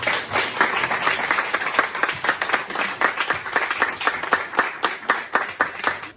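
Audience applause at a graduation ceremony: sustained, dense clapping from many hands, steady and fairly close, with no talk over it.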